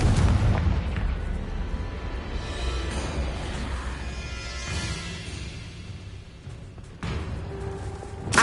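A Confringo spell explosion in the Hogwarts Legacy video game: a dense, rumbling blast that rolls on and churns for several seconds, closing with a fresh sharp burst near the end.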